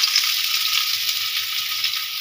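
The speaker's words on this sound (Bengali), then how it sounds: "দেখুন আমার তেলটা গরম হয়ে গেছে, তেলের মধ্যে দিয়ে দিব পেঁয়াজ কুচি।" Chopped onion hits hot oil in a pan for an egg chop and fries with a steady, bright sizzle that holds evenly throughout, with no talking.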